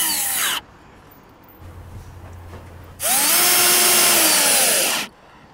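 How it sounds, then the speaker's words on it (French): A power drill drives screws while a roof window is installed between rafters, giving a loud short whir, a quiet gap with faint low hum, then a second sustained whine that rises and holds before stopping. "Visse maintenant partout."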